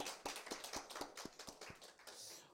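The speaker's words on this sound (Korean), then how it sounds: "우리 선생님들에게 감사의 박수를 드리겠습니다" A church congregation applauds in a short burst of clapping, a quick run of distinct claps that thickens into a brief patter before fading, faint and distant.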